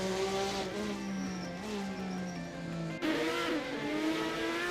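Race car engine from a GT-class car in a racing video game, lapping Circuit Paul Armagnac at Nogaro, droning steadily with pitch rising and falling through gear changes, loud and continuous with no talk.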